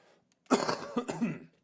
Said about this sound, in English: oh man, I'm tired of this cough.